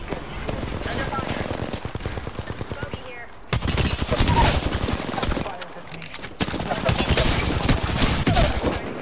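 Rapid automatic gunfire in the battle royale game Apex Legends, loud repeated bursts of shots with a brief pause, then heavier firing resuming, with game voice lines mixed in.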